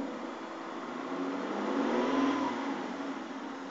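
A 2005 Kia Sorento V6 engine settling into a steady idle after starting, a smooth, moderately loud hum that swells slightly in the middle and then evens out, with no talking.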